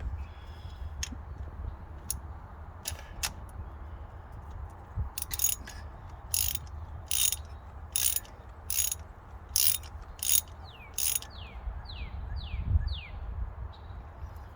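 Ratchet wrench tightening a spark plug on a 2010 Ford F-150, a series of sharp clicking bursts up close, spaced at irregular intervals and then quickening into a short run of rapid clicks, over quiet background with no speech.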